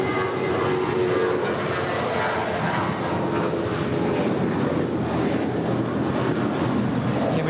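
A Lufthansa airliner, registration D-ABYN, arriving at Los Angeles International Airport on a steady, loud broad roar of jet engines that holds evenly throughout, with some wind buffeting on the microphone.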